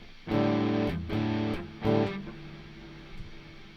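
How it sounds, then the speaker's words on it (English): A heavily distorted synth tone, processed through distortion effects in Cubase 14, plays a few loud, harmonically rich chord stabs in a rhythmic pattern, then trails off into a fading buzzy tail. "Now I've put together some wicked distortions here."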